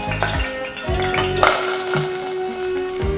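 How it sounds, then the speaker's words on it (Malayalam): Sliced onions going into hot oil for a beef ball curry base produce a continuous frying hiss with intermittent clatters and stirring knocks, moderately loud and close. "എണ്ണ ചൂടായിട്ടുണ്ട് നമുക്കിതിലേക്ക് സവാള ഇടാം"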